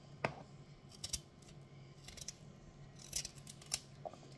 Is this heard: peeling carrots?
yes